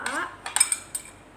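A metal spoon clinks against a plate set out for eating a cooked egg dish, giving a few close, bright taps and scrapes in quick succession with no talk.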